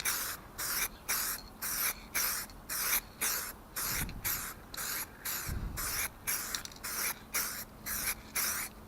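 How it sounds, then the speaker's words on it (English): Repeated short bursts of aerosol tint spray hissing onto car lights, about a dozen evenly spaced sprays with brief pauses between, close and clear with no talking. "Just give it a shake like you do with spray paint and just lightly spray over."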